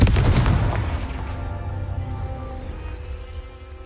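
Confringo blasting spell cast in Hogwarts Legacy, a loud booming burst that erupts at once and then rumbles and fades slowly over about four seconds, with no voices.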